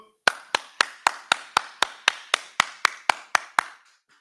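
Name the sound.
people clapping hands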